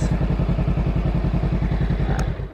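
A 2023 Honda Rebel 500 motorcycle engine idles loud and close with a fast, even thumping pulse, then cuts off abruptly near the end.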